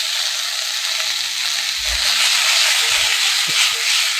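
Chicken wings with soy sauce and oyster sauce pan-frying in a wok, a steady loud sizzle broken by a few soft thumps of stirring.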